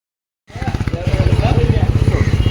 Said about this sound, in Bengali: ওই যে মুনের বাবা বাইক নিয়ে আসছে।